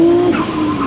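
A Nissan Skyline R34 GT-R on a fast lap, its tires squealing loudly as the car skids through a corner, with engine noise underneath.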